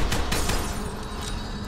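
A rapid flurry of sharp pistol pops in F.E.A.R. 2, several shots in quick succession over a dense, noisy background.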